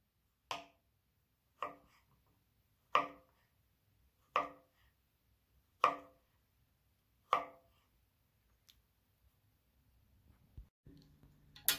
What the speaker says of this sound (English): So I'm gonna go ahead and chop this up.